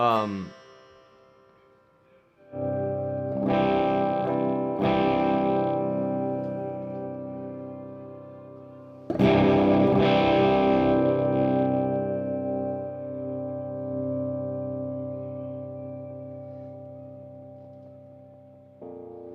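Clean channel of a Sunn Model T guitar amplifier, two strummed electric guitar chords ringing out bright and sustained, each decaying slowly, with a soft single note at the start.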